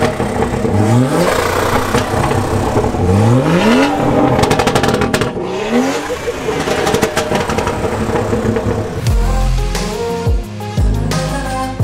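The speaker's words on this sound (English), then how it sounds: "And now someone's revving off." A BMW engine at a large UK BMW car show revs repeatedly in rising bursts, loud and close, then drops back toward idle, with other engines and crowd noise around it.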